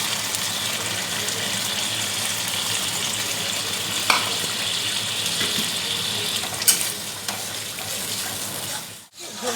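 Water is poured from a bowl into a vegetarian curry cooking in a pan, giving a continuous loud sizzle and splash with a few small clinks, close up and with no talking.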